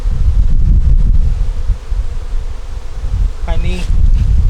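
Honey bees buzzing steadily around an open hive during a brood inspection as cold weather approaches, a close, dense drone with brief rustling.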